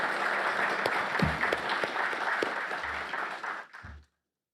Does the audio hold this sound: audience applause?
yes